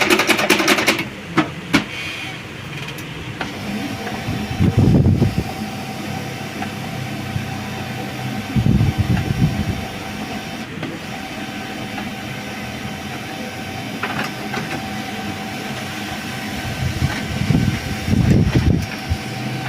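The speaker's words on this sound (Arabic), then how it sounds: "هنبدأ ان احنا نعمل التست بيج بتاعنا" A Canon MF3010 laser printer prints a test page after an E001 error fix, with rhythmic mechanical whirring and clattering bursts that repeat at intervals over a steady motor drone, close and fairly loud.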